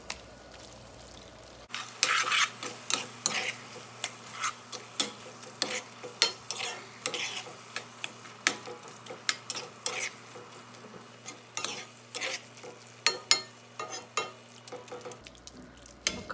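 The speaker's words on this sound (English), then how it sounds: "Cook the onions a little bit more and the garlic." Onions and garlic fry in a pan for shepherd's pie, giving a steady soft sizzle. Frequent sharp scrapes and clinks of a utensil stirring against the pan break through it, close and fairly loud.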